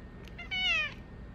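A house cat gives a single clear, close meow lasting about half a second, rising and falling in pitch, set against a quiet indoor background with no talking.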